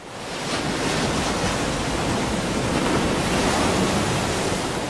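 Ocean waves washing onto the beach at Montañita at night, a loud continuous roar of surf mixed with wind buffeting the microphone, steady throughout with no speech.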